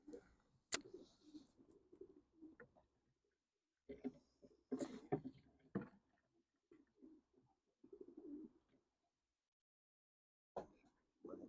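Young racing pigeons out of the loft for the first time, with an older hen and a couple of cocks nearby, give soft intermittent coos and murmurs outdoors, with a few sharp flutters and quiet gaps between calls.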